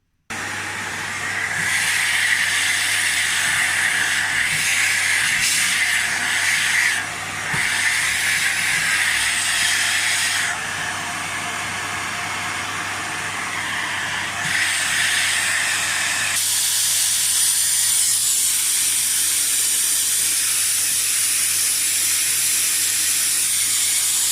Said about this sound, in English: Right, so I'm going to get the vacuum at this now.